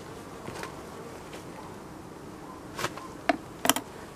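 Honeybees buzz at an apiary around a recently hived swarm, a faint, steady hum in the background with a few individual bees flying close past the microphone in sharp, brief buzzes toward the end.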